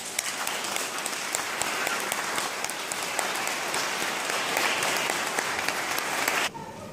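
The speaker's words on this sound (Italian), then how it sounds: "Lo accompagniamo con un applauso." A church congregation breaks into sustained, dense applause at a parish priest's installation at San Bartolomeo Apostolo, clapping steadily for about six and a half seconds before stopping abruptly.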